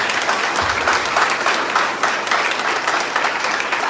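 Dense applause and cheering from a church congregation at a religious gathering, a continuous loud wash of clapping with crowd voices mixed in.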